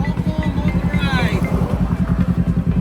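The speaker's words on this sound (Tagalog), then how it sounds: "Ayan ang mga motor na kasama natin." Several motorcycles from a touring group on the Mindoro Loop in the Philippines rumble close by with a steady pulsing engine drone, while voices talk over them.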